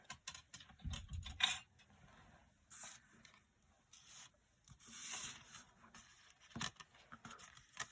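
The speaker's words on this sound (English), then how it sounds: "I'm just going to use tape runner to stick these down" Tape runner pressing adhesive onto paper pieces for a winter tree craft, heard as scattered dry rubbing and rasping strokes with short bursts and gaps, close and fairly quiet, with no talking.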